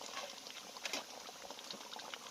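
Quiet, continuous bubbling and light crackling of bananas deep frying in oil, with no voices.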